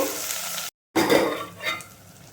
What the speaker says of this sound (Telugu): ఉప్పు వేస్తే తొందరగా వేగుతాయి బ్రౌన్ కలర్కి వచ్చిందాకా వేగించుకోవాలండి